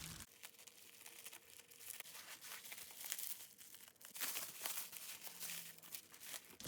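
Securely wrapped notebooks from a stationery unboxing being unwrapped, giving continuous close crinkling, crumpling and tearing of wrapping and bubble wrap, with bursts of louder rustling and no talk.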